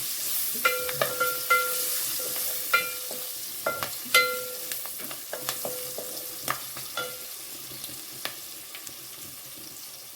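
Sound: green chilies added to hot pan, sizzling while stirred

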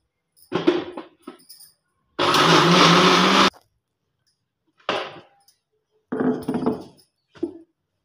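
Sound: mixer grinder blending beetroot with water

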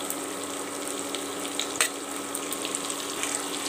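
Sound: sliced onions and green chillies frying in spice paste

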